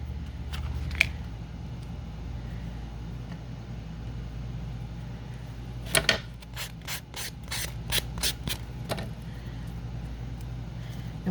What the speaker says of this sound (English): we're going to go back over this and do some more sanding on it